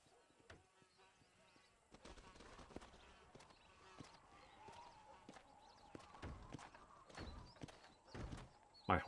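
Horse hooves clop in Red Dead Redemption, a series of soft, irregular thuds at moderate distance among faint ambient game sounds, growing busier toward the end.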